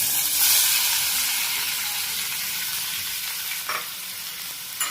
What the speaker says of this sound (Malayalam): ഇനി അതിലേക്കാണ് നമ്മൾ കഷ്ണം ഇടുന്നത്